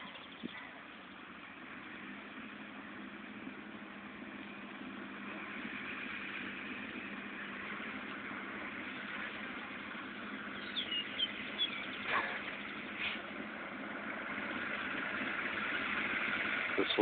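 A tractor engine idles and runs steadily in the distance, a faint, continuous low hum with a few small clicks and knocks, heard from afar with no one talking nearby.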